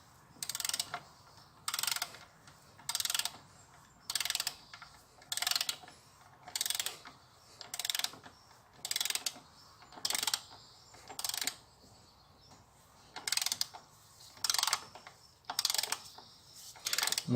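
A ratchet wrench tightens the intake manifold bolts on a Peugeot 308 to 13 Nm, clicking in regular bursts about every second or so, each burst a quick run of metallic pawl clicks, close and clear.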